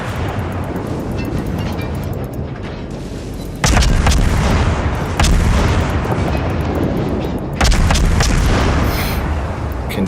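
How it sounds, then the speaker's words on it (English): Heavy naval guns boom repeatedly during a World of Warships ambush, with loud broadband blasts landing around four, five and eight seconds over a constant rumbling battle din, no voices present. "Aim these guns over here. We got a couple shots out on him."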